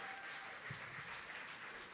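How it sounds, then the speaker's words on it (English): Audience at a Scottish whisky awards ceremony clapping steadily for the finalists, a soft, even patter of applause heard from some distance and fairly quiet. "Let's get a big round of applause for all our finalists"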